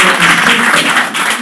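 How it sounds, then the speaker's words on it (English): Audience applause at a panel event at Tribeca, a steady broadband clapping wash lasting the whole moment, fairly loud and even with no voices over it. "I think we should all give a round of applause to Arian for signing the artist for ceasefire"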